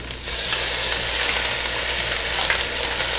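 Seafood shells and onion sauteing in a pot for stock give a steady, close sizzle and crackle of frying, continuous and fairly loud with occasional stirring, no voices.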